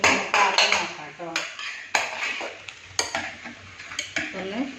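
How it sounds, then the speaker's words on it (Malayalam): Boiled potatoes are mashed in a pan with a utensil, giving repeated scraping and knocking strokes in an irregular rhythm, close and fairly loud, with someone talking underneath. "കിഴങ്ങ് ഒക്കെ നല്ലോണം ഉടച്ച് കൊടുത്തിട്ട് ഇങ്ങോട്ട് കുറുന്നനാക്കി എടുക്കണം."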